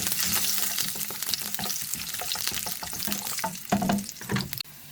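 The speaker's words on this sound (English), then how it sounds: "Mix well." Peppercorns, garlic cloves and ginger frying in a pan for veg kurma, stirred continuously, with a loud, busy sizzle broken by rattling scrapes of the spoon until it cuts off abruptly at the end.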